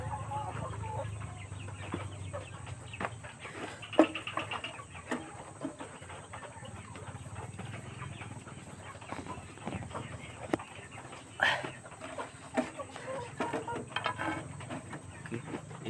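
Three-month-old kampung chickens cluck on and off in a coop, with soft scattered clucks and scratching near and far over a steady background hum.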